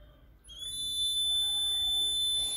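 A homemade water level overflow alarm, with a pencil as the sensor, sounds a steady high-pitched electronic buzz once water poured into a glass reaches it, starting abruptly and holding at an even, moderate level.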